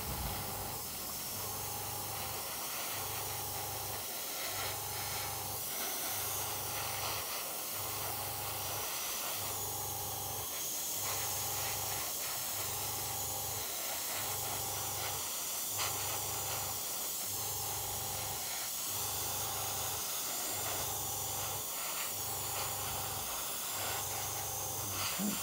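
An airbrush sprays Humbrol acrylic model paint onto a plastic kit part from about 10 to 15 centimetres, a continuous close hiss running for the whole stretch over a regular low pulsing compressor beat.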